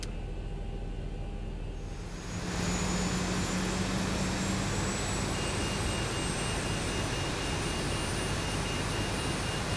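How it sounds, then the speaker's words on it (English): The left engine of a Boeing 737 airliner in X-Plane 11 spools up, starting as a faint hum and swelling after a couple of seconds into a loud, steady roar with a high whine on top. "let us start the left engine."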